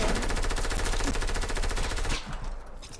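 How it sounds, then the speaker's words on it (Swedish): Rapid automatic gunfire in a video game, a dense continuous burst of close, loud shots that cuts off after about two seconds, leaving a quieter tail. "Det är skottlossning."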